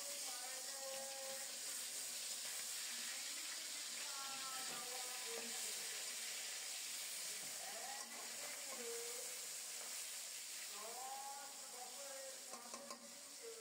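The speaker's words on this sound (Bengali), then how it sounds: "তেল গরম হলে একটা একটা করে মাছ দিয়ে দেব।" Pabda fish frying in hot oil gives a steady, close sizzling hiss that runs the whole time, with faint tonal voice-like sounds drifting in the background.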